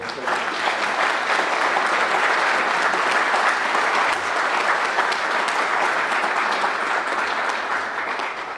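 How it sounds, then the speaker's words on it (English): Attendees at an annual town meeting clap together in a sustained, even round of applause, fairly loud and dense, tapering slightly toward the end. "So if we can have a round of applause for those people."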